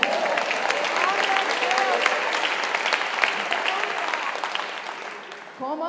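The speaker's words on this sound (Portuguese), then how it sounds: "Aplauda Jesus." A church congregation breaks into sustained applause, many hands clapping in a dense, even roar that tapers slightly before voices and a brief sound cut in at the very end.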